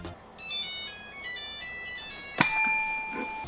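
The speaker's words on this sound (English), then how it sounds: "the Nokia cell phone is the correct answer" Nokia cell phone ringtone playing alone as a bright, clear melody of short tonal notes, a brief sharp click near the middle before the tune continues.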